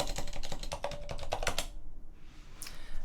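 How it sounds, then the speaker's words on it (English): Rapid keystrokes on a computer keyboard as a password is typed, a quick run of close clicks that stops briefly and then resumes with a couple of final taps. "And let me type in my password."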